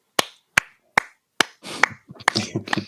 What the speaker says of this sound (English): Gave him a Rudy slow clap